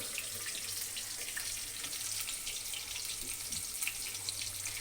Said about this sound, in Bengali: এখানে দেখুন জিরা আর তেজপাতা দিয়ে বেশ ভালোভাবে আলুটা ভাজা হচ্ছে